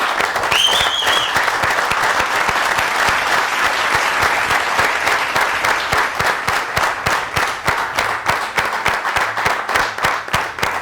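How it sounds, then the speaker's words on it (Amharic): Steady, dense applause from a studio audience on an Ethiopian television competition show's Easter special, loud and sustained throughout, with individual claps growing more distinct toward the end. "እውነት የመጀመሪያም የመጨረሻም ጭብጨባ ነው የምፈልገው እዚህ ቤት ውስጥ"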